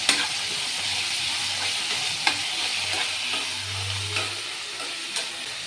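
Coriander seeds frying in a pan of green chickpea masala curry, a steady close sizzle and hiss with occasional sharp scrapes of stirring, no voices.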